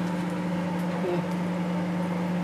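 Steady electric hum of a microwave oven warming soup, a constant low drone with a faint rattle running through the whole stretch, close by and unchanging.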